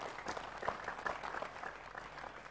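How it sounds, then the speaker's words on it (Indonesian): An audience at a talk gathering claps in a steady, moderately distant wash of applause that lasts the whole short stretch. "Ya, tepuk tangan enggak apa-apa ya."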